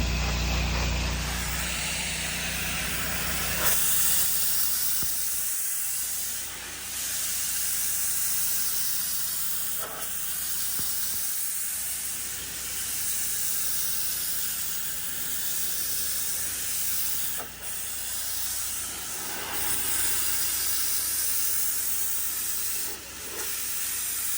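A pressure washer fitted with a 2.2 to 3 gallon M5 nozzle sprays stairs during a roof washing job, giving a loud, continuous broadband hiss that holds steady throughout with slight surges and dips.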